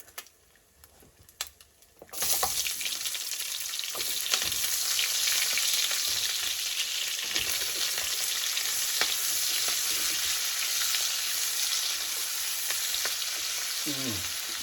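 Onions hit a hot pan for a bacon, sausage and potato casserole: after a couple of seconds of quiet handling, a loud, dense sizzle bursts in and holds steady and close, with faint stirring clicks underneath.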